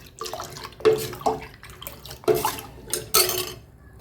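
A spoon stirs thick wheat flour porridge in a pot on the stove, making wet, sticky squelches and scrapes in slow, irregular strokes close by, with no talking.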